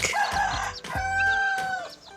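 Brooding hens cluck and squawk loudly up close, with drawn-out, agitated calls overlapping in a short burst.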